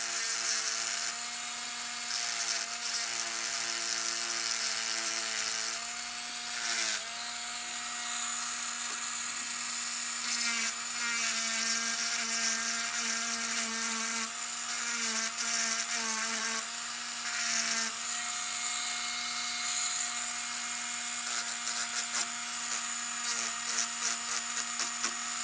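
A power tool grinds a small burr off the edge of a metal fork, a steady high whine holding close and loud, with brief dips where the tool eases off the workpiece.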